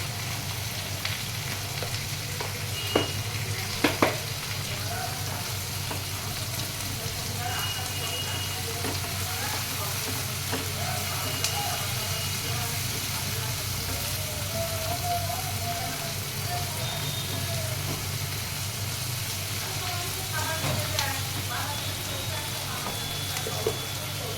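A tomato with a few garlic cloves fries in a pan for paneer butter masala, giving a loud, continuous close sizzle with occasional faint clinks and no talking.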